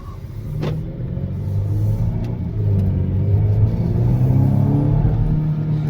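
A Volvo V60 Cross Country wagon with Polestar tuning pulls forward from a stop, its engine hum rising steadily and carrying a low rumble that stays close and continuous throughout.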